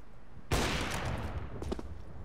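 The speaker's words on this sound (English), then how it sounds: "He's about to re-peek it, spots ahead, and does hit a nice headshot there onto Era." Rapid Counter-Strike gunfire erupts in a dense burst of shots from a competitive match, loud and continuous for about two seconds.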